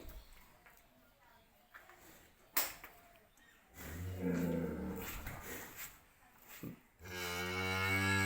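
A dairy cow at a cattle market near the Hili border moos loudly and close by, a long drawn-out low call near the end, with other bellows and a person talking earlier.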